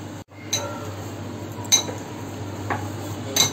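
A spoon clinks against a bowl while a modak stuffing of Oreo biscuit cream, coconut powder and cardamom is mixed, giving a few bright metallic taps spaced over a quiet background.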